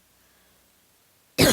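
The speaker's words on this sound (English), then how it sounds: "Excuse me with the cough." A single sharp cough bursts out at the very end after near silence, close and loud.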